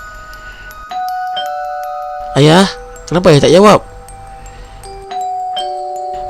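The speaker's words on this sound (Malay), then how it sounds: "Loceng rumah itu terus berbunyi dan berbunyi" A house doorbell rings repeatedly in a tense horror-story scene: tonal chimes sound over and over, spaced through the clip, while a voice speaks in two short bursts between them.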